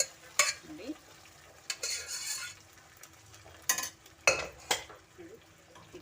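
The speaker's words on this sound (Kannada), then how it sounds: "ಈ ಥರ ಮಸಾಲೆಯಲ್ಲಿ ಆಯಿಲ್ ಅದರಲ್ಲೆಲ್ಲ ಚೆನ್ನಾಗಿ ಒಗ್ಗರಣೆಯಲ್ಲಿ ಫ್ರೈ ಆಗಲಿ" Pressure-cooked mutton frying in masala and oil in a pan, mostly quiet with intermittent spoon stirring and scraping bursts, close by, and a soft low sizzle between strokes.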